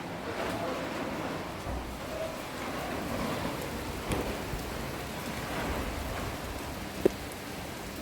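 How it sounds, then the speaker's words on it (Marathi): Heavy rain pours steadily outdoors with gusting wind, a continuous hissing wash at moderate volume with a faint sharp tap near the end. "सो भायर न्ही बरो व्हडलो पावस पडटा आनी वारो सुटला."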